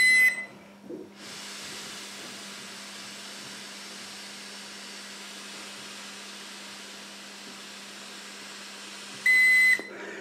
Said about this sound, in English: Until you get that double beep